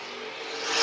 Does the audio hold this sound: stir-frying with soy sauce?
no